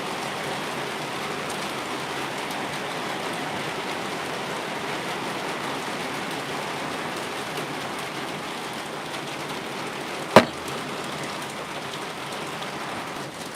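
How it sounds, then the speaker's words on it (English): Steady rain falling around an outdoor barbecue setup, a dense even hiss throughout with a single sharp knock near the end. "I don't get rained on."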